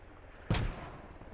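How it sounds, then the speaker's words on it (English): A single mortar round lands in the military shooter Squad with a sharp, heavy boom. It comes at a moderate distance and rumbles away into quiet ambience. "Do we know where those mortars are coming from?"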